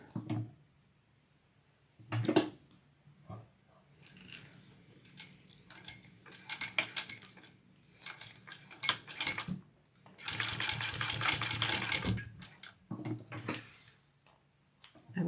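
A sewing machine stitches a Marzia bucket bag in short intermittent runs, whirring bursts separated by quiet pauses, with one longer sustained stretch of stitching near the end.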